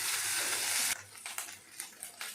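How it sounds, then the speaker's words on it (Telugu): Ginger garlic paste with onions hits hot oil in a pan with a loud, dense sizzle, then drops to quieter crackling and scattered stirring scrapes. "దీనిలోనికి నేను ముందుగా నూరి పెట్టుకున్న అల్లం వెల్లుల్లి పేస్ట్ అండి 1 స్పూన్ వేస్తున్నాను. దీనిని కొద్దిగా వేయించుకోవాలండి."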